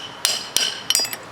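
Three or four bright, ringing hammer blows driving a metal sleeve out of a Chevy C10 rear leaf spring eye, close by and sharp with short clinking decay, no voices.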